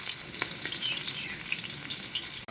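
Onion and green chilli sizzle in hot oil, a steady crackling fry heard up close for a couple of seconds, with a faint clink at the end.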